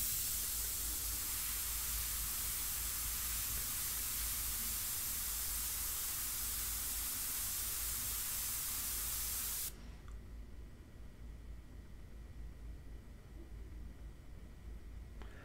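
Airbrush spraying India ink onto paper for a portrait, a steady loud hiss of air that runs without a break for about ten seconds, then cuts off and leaves only faint room noise.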